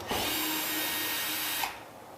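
Power drill driving a long screw through 5/8-inch sheetrock into a ceiling stud during a water-damaged ceiling repair; one steady, loud motor whine lasting about a second and a half, then stopping, no talk.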